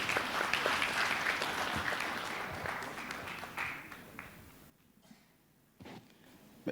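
Audience applause in a university hall at an open senate ceremony for an anniversary celebration, steady and dense for about five seconds, then thinning out and stopping, with a brief burst near the end.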